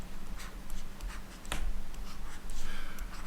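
Marker or chalk writing on a board during a logic lecture, a run of squeaky strokes and taps with one sharper scrape midway, close and steady against a faint room hum, no talking.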